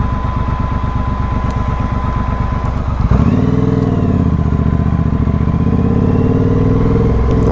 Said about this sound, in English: My fan's kicked in.